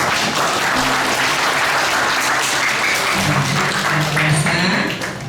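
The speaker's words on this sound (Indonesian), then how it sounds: "yang paling berbobot, tepuk tangan." A large audience at a Hindu community gathering in Banyuwangi claps loudly and continuously, a dense close roar of hands with faint voices mixed in, tapering slightly at the very end.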